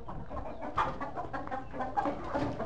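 A hen clucks softly and repeatedly in short, uneven bursts at fairly close range, a quiet, continuous murmur of fowl sounds with small peaks.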